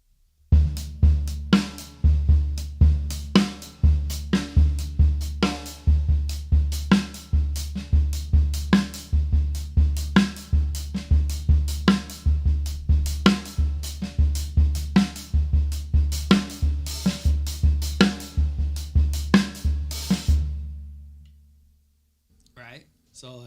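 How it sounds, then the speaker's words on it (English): A drum kit plays a linear 16th-note groove, with no two hits landing together, from a song. The pattern is tight, driving and continuous for about twenty seconds, then stops abruptly. "it's a linear beat. Linear meaning no two notes hit the same, but it's based off of 16th notes."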